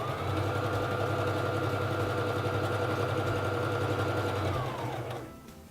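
Singer Fashion Mate 3333 sewing machine stitching a narrow zigzag at longer stitch length, a steady loud whirring hum with fast mechanical chatter that runs unbroken for about five seconds, then slows and stops.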